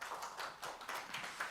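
Scattered audience applause at a science and technology policy forum, a short run of individual claps from a modest crowd heard at moderate distance, somewhat faint and uneven.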